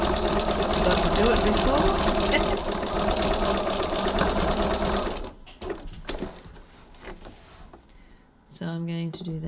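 A sewing machine runs continuously for about five seconds, stitching a second line along a tote bag side seam, then stops, and a person speaks briefly afterward.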